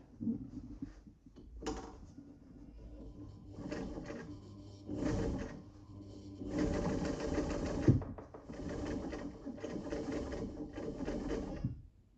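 A Class 15 clone sewing machine, modified for heavy-duty marine canvas, box-stitches in several rhythmic chattering runs separated by brief pauses, growing longer and steadier toward the end.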